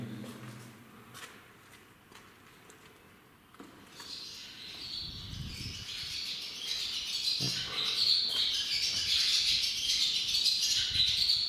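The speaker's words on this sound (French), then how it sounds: "les oiseaux ne sont pas agréablement surpris et contents de ma présence." Birds call inside an abandoned old brewery, faint at first, then a dense chatter of high chirps swells and holds for the last several seconds, with light shuffling sounds in the empty space.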